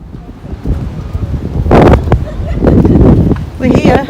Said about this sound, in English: We're here. It's very windy.